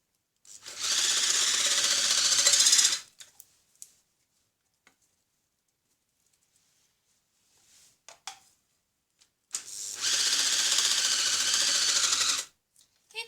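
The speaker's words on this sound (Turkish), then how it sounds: "Makinamı hazırladım ve ayvalarımı rendelemeye başladım." An electric grater shredding quinces runs in two loud, steady bursts of about two and three seconds, separated by a quiet gap with scattered small knocks and clicks.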